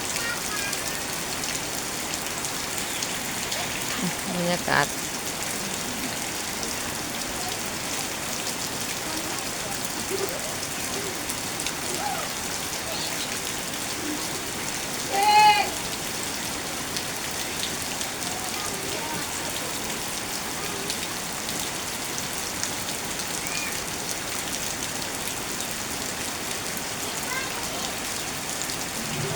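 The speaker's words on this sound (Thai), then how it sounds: "ฝนตกลงมา" Steady rain falling over an outdoor market, a constant broad hiss throughout with brief louder bumps, and a voice speaking faintly at times.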